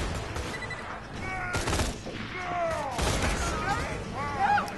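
A saber turret fires at enemies in Borderlands 2: several loud bursts of rapid gunfire punctuate the fight, with game voices calling out in between and shots crackling close by.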